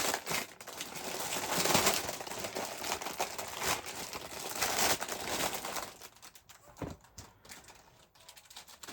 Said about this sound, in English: I'm so sorry for the crinkling.